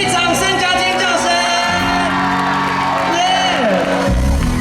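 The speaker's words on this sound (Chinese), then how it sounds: "给自己掌声加尖叫声" A concert crowd at a mid-autumn festival gathering in Hukou, Taiwan, whoops, screams and cheers loudly and continuously over sustained music, with voices shouting throughout.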